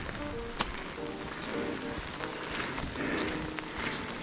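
Rain falls on a misty mountain trail near Juneau, Alaska, a moderate steady patter with scattered close drips and faint rustling, and a soft voice murmurs briefly underneath.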